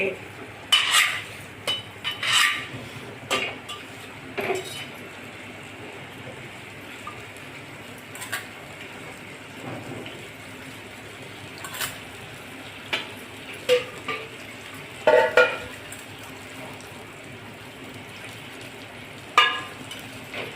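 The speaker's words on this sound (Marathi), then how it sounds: "मिरची सुद्धा छान परतून झाली" Capsicum and tomato being sautéed in oil in a pan for a simla mirchi bhaji, with a soft steady sizzle under frequent scraping and clinking of a spoon against the pan, no talking.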